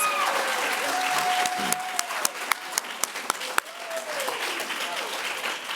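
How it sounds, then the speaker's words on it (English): Applause rises for Specialist in Education degree candidates at a graduate commencement and hooding ceremony, a broad crowd clapping with several sharp, distinct claps standing out and tonal sounds drifting beneath. "Let's give a final round of applause for the Specialist in Education degree candidates."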